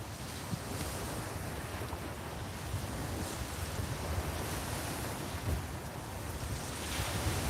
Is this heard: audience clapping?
no